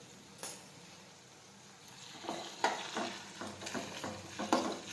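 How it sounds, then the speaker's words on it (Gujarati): Okra curry is stirred in a pan after turmeric, salt and sugar go in, giving quiet scraping strokes over a faint sizzle that start after a near-silent opening. "હવે આ રીતે બધા મસાલા છે તે મિક્સ કરી દઈશું."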